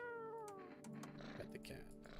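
A cat meows in a video game, a short rising-then-falling cry near the start, followed by clattering in-game sounds and a voice talking over it.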